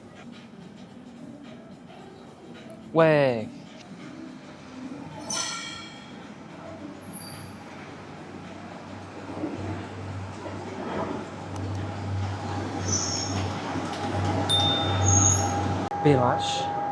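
A Lyon metro train waits on a siding at the Perrache terminus, with a low mechanical hum that swells gradually. A chime-like squeal sounds early on, and brief speech and station noise come and go.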